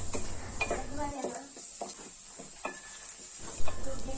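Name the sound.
frying spices and ginger garlic paste in a pan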